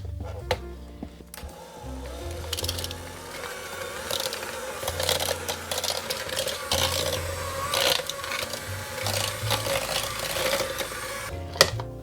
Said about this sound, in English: with my hand mixer, I'm just going to go ahead and start combining those or creaming those together.